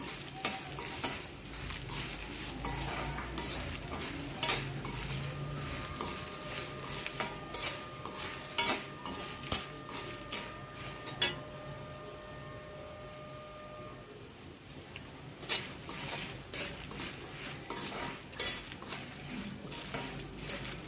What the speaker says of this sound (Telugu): ఎండుమిర్చి ఫ్రై అయిపోయినాయండి, తీసేస్తున్నాను